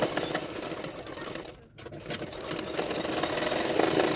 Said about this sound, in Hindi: हाफ इंच मार्जिन रखते हुए मैंने सिलाई डाल दिया है